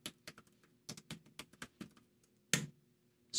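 Typing a command on a computer keyboard in a terminal, a quick run of close, crisp key taps in an uneven rhythm, finishing with a firmer keystroke, alone and fairly quiet.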